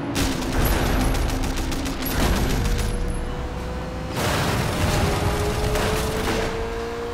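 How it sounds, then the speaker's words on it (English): Sustained, loud rapid-fire turret gunfire from a car in the open-world game Sleeping Dogs, two long continuous bursts with a brief lull between them and a revving engine tone running underneath. "you do want me to shoot with the turret, okay."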